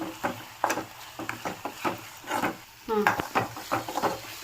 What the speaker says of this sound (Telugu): పచ్చిమిర్చి వేగిపోయింది